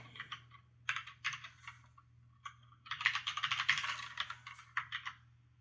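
Typing on a computer keyboard while writing HTML code, bursts of rapid clicking keystrokes separated by short pauses, close and clear with no talking.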